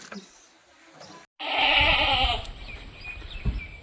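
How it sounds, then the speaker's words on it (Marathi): Kathiawadi goats at a livestock sale, a loud close bleat rising after a brief gap, followed by quieter shuffling and a second fainter call near the end. "हे बघा दादा ह्या शेळ्या दिलेल्या आपण"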